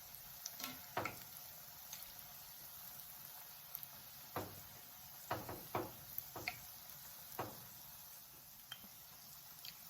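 Buttermilk hush puppies frying in grease on medium heat, a soft steady sizzle broken by scattered pops and crackles at irregular intervals, close and quiet.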